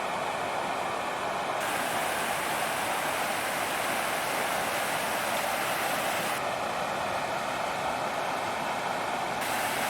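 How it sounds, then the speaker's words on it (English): Final Falls, the small waterfall at the bottom of Fall Creek Falls, roars as a steady, loud broadband rush of falling water that fills the whole stretch without a break. "that is Final Falls here at the bottom of Fall Creek Falls"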